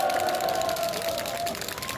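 A crowd at a political rally claps and cheers at moderate volume, a continuous wash of applause lasting about two seconds with no voice on top.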